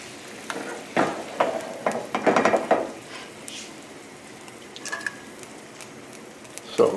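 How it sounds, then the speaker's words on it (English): Pork loin chop in salsa in a pan on a lowered flame, a soft steady sizzle and bubbling with occasional scrapes and clinks of a utensil against the pan, up close. "Lower the flame"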